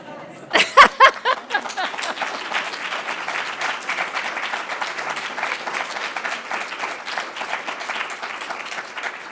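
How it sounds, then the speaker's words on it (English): Audience applause at a college alumni awards ceremony: a few sharp claps up front, then steady, dense clapping from a sizable indoor crowd that holds evenly for several seconds. "Let's give John and Pat another round of applause"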